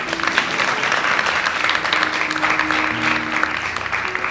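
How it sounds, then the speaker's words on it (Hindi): A satsang audience breaks into lively applause, close and steady throughout, with a faint voice and a sustained tonal hum sounding underneath the clapping. "आप ताली बजाइए अपने लिए"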